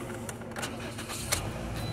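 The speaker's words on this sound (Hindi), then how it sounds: "मैं गाड़ी आपको स्टार्ट करके बता दूँ।" A used 2019-model car's engine cranks and catches over about two seconds, with a brief sharp click and a steady rumble, heard close at a used car market in Riyadh.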